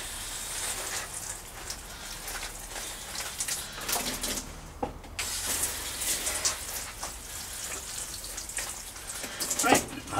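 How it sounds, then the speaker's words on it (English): Water sprinkled over freshly planted vegetable seeds, a soft pattering spray with intermittent splashes and drips, fairly quiet and close, with brief pauses and a slightly louder burst near the end. "I'll just get a wee sprinkle of water"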